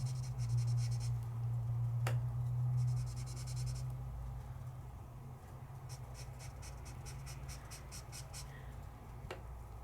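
A metallic marker colours on paper in quick, close, rhythmic scratchy strokes, faint and dry under a low background hum, with brief bursts of rapid back-and-forth scribbling and no talking.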